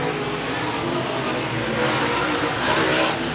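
Late model race cars roar steadily around a clay speedway, a dense continuous wall of engine noise that swells slightly as the pack passes.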